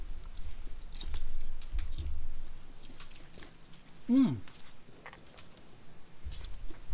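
Crunchy popcorn with white cheddar and ranch seasoning being chewed close up, a few crisp bites and munching between soft breaths and mouth sounds, with no clear talk.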